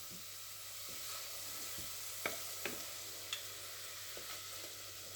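Onions frying in oil in a pan give a soft, steady sizzle, with a few faint clicks and taps scattered through it.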